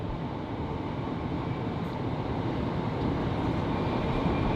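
Steady, dense rumble of a moving train in Japan, heard from inside as a continuous broadband roar with no pauses or distinct events.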